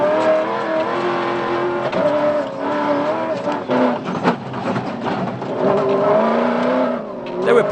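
A Ford rally car engine roars from onboard while the crew pushes through thick Kalahari sand, revving hard and steadily with shifting pitch as it changes gear. Loud and close, with a commentator speaking over it.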